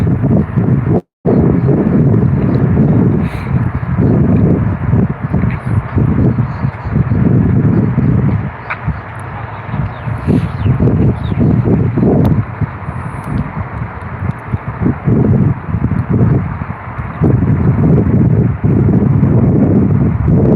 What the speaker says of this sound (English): Qantas Australia, Boeing 737, rolling runway 32 on the Gold Coast.